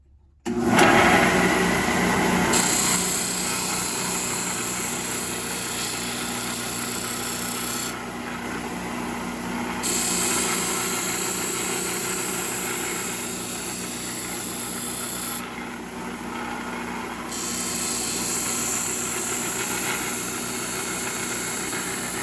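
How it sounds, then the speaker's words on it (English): A bandsaw cuts through wood along a marked line, its motor giving a loud, steady whine with a constant hum that runs unbroken throughout, with no talking. "When I'm making a cut on the bandsaw"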